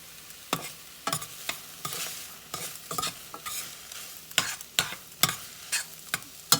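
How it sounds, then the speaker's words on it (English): Butter melting on hot drained ramen noodles in a pan, with a low sizzle under a run of sharp, repeated scrapes and taps from stirring, close and steady with no one talking. "We're going to let that butter melt."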